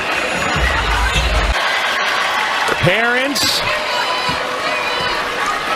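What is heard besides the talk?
basketball arena crowd cheering wildly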